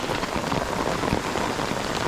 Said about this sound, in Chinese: 哇，都幾大下雨啊